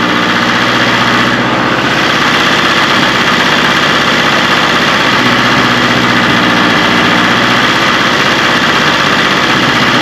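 A newly installed car engine running steadily in a garage, a loud continuous idle with a low, even drone and faint mechanical vibration throughout, no voices.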